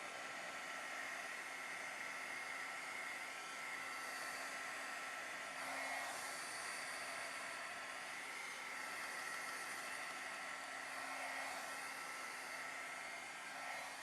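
Hair dryer blowing on the back of watercolor paper, a steady, even whooshing hum with a constant whine, running uninterrupted and close up.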